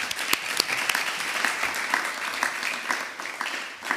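A council chamber fills with sustained applause for a newly elected first secretary at a municipal council swearing-in, dense steady clapping from a seated assembly lasting throughout.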